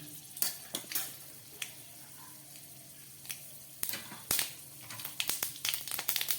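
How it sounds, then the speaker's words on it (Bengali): Dried red chilies and mustard seeds temper in a small amount of oil, with faint sizzling broken by sharp pops and clatters of a pan and utensil, growing busier toward the end. "এবার দিয়ে দিচ্ছি এর মধ্যে খুব কম পরিমাণে তেল, দিয়ে দিচ্ছি 2টো শুকনো লঙ্কা, আর সঙ্গে দিয়ে দিচ্ছি একটু সর্ষে ফোড়ন।"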